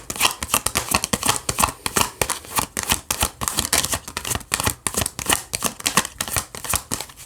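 Tarot cards being shuffled and drawn, a rapid run of crisp riffling flicks and slaps close to the listener, dense and rhythmic throughout with no talking.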